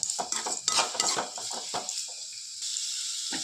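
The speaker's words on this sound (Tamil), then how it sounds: "நல்லா வதங்கட்டும் வெங்காயம்" Onions sauté with a little salt in a pan for a beef gravy, with a close, steady hiss and a quick run of spatula scrapes and clinks early on. The scraping then stops and the sizzle carries on alone.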